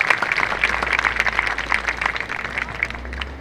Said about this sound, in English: So just a round of applause for Brandon, greatest Giant shortstop in history.